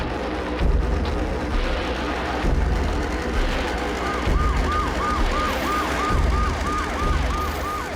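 An ambulance siren wails in a repeating rising and falling pattern, becoming clearer in the second half over a dense, noisy background.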